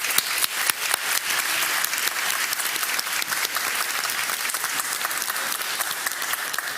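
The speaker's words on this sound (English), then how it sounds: "Please, everybody, give a warm round of applause" Loud, full applause from the audience after a Cambridge Union debate on policing, dense and continuous with many distinct claps throughout.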